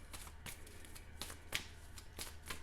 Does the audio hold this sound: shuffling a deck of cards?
yes